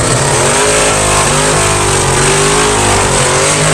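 Turbocharged Fox-body Mustang drag car launches down the drag strip. A loud, continuous engine roar fills the track as the car accelerates hard and the revs climb steadily, with no talking.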